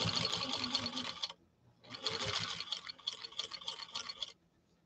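A 1949 Canadian Singer 15-91 sewing machine stitches through two layers of saddle-grade leather, running in two bursts of rapid whirring, close and clear, with a brief pause between them and no talk.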